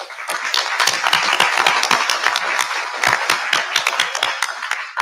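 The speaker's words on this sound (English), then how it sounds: "we should definitely give them a round of applause" Sustained audience applause in a meeting hall during a California reparations task force session: dense, crisp clapping from many hands, loud and continuous throughout.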